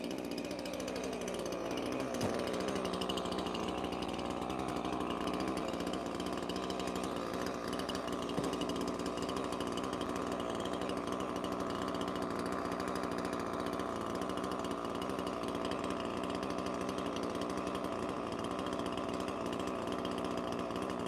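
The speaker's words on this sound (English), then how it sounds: "let's fire some saws up and cut" A chainsaw engine drones loudly and steadily throughout as it cuts wood, with other saws running in the background, no talking.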